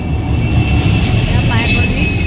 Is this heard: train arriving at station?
yes